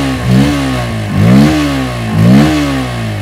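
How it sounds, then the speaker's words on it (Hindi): Bajaj Pulsar P150 motorcycle with a 150cc single-cylinder engine, revved in neutral: three rising-and-falling throttle blips over a steady idle, loud and close with no talk. "लगे हाथ इसका एग्जॉस्ट नोट भी सुन लेते हैं।"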